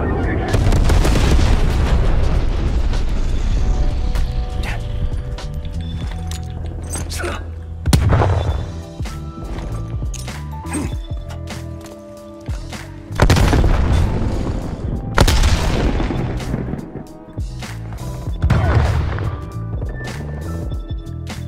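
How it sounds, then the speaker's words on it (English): Napalm strike explosions in Call of Duty Black Ops Cold War: loud, deep booms repeat in waves across the whole span, with rumbling tails and crackle mixed with other gunfire and game effects. "Enemy napalm strike incoming."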